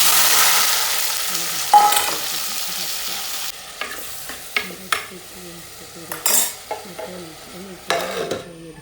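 Coconut oil sizzles in a hot curry pot meant for frying fish, a steady close hiss broken by scattered metallic clinks and scrapes of a utensil against the pot.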